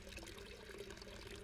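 Water pours and trickles onto a tree in the Hello Neighbor Beta 3 game, a soft, continuous, quiet splashing with no talk.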